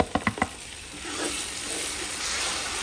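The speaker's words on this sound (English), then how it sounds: "I'm gonna go ahead and drop in our onions and our pepper." Onions and pepper are dropped into a hot pan: a few quick clacks, then a steady, close hiss of frying that holds evenly to the end.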